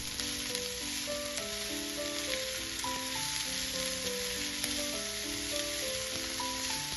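Vegetables sauté in oil in a pan, a steady close sizzle running the whole time with no talk, while music plays alongside.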